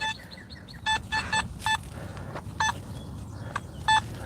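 Short harmonic electronic tones chirp in clusters over faint outdoor background, a metal detector giving repeated iron signals, some doubled, moderately loud.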